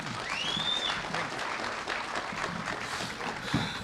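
Steady audience applause at a formal corporate event honouring a CEO, a dense wash of many hands clapping continuously, moderately distant and even throughout with faint background voices.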